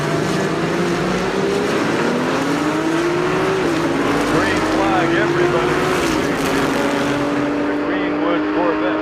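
Loud racing engines, including a 1979 Porsche 935, roar continuously at close range during a Rolex reunion race, their pitch climbing and sliding as cars scream past one after another.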